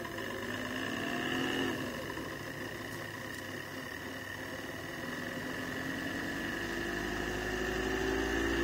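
A spinning rotor on a self-pulsing electrical circuit, turning counterclockwise, gives a steady hum with layered tonal whine and a rising pitch toward the end, continuous and fairly quiet.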